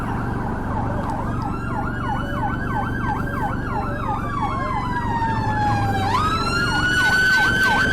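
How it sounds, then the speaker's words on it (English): Two police cars and an ambulance pass with sirens wailing in a loud, fast rising-and-falling yelp that shifts pitch near the end, over road and engine noise on a UK motorcycle ride. "Something's going on with 2 police cars and an ambulance."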